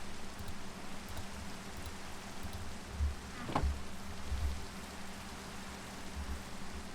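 Minecraft rainfall as an even, quiet wash of drops, with a few low thuds and a brief sharper sound midway, no one speaking.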